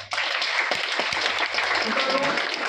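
An audience at a National Science Day liquid nitrogen show bursts into loud, dense applause that starts abruptly and continues steadily throughout.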